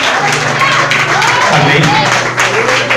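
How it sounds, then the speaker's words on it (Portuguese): A church congregation claps loudly in praise during a worship service, busy overlapping clapping mixed with sustained voices or music, while someone speaks or calls out over it. "Você tem que a igreja aplaudisse bem forte ao Senhor pela vida dos servos de Deus."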